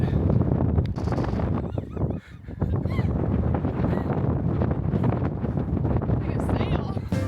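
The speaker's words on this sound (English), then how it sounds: "getting windy." Strong wind buffets the microphone on open sand dunes along the Oregon coast, a loud, continuous roaring rush with gusty swells, while people talk and call out nearby.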